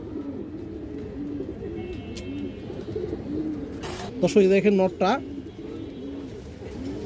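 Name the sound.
pigeons cooing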